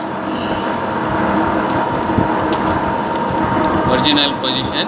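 Lathe running steadily through a thread cutting operation, a loud, continuous mechanical whir with gear and ratcheting chatter and a few high squeaks near the end, close up and filling the whole stretch.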